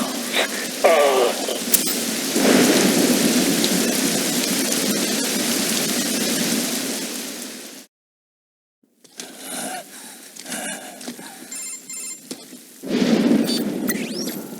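Heavy rain and a thunderstorm in Metal Gear Rising: Revengeance. A loud, dense downpour with rumbling runs, briefly drops to silence, then returns more sparsely before a strong surge at the end.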